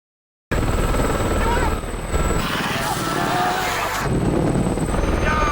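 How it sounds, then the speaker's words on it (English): Helicopter from the 2007 film 28 Weeks Later, a loud, steady rotor and engine roar filling the scene, with a rising whine and shifting turbulence midway. "They're gonna lose the copter, aren't they?"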